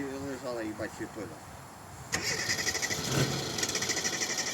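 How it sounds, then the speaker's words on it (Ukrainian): A ZAZ Slavuta car engine starts after a short crank and then settles into a steady, fairly loud idle, with voices talking over the start just before it catches. "Чуєш, як хорошо заводиться"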